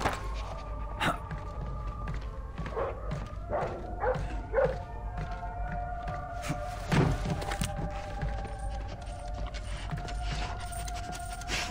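A guard dog barks in Splinter Cell Blacklist, a handful of sharp mid-distance barks and yips in the first half amid low game ambience, then fading to background hum.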